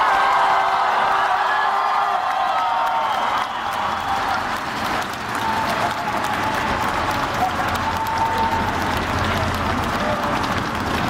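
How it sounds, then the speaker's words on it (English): Sustained applause and cheering from a large high school graduation crowd for the class of 2023, a steady dense wash of clapping with scattered whoops that holds loud throughout. "How about another round of applause for the class of 2023?"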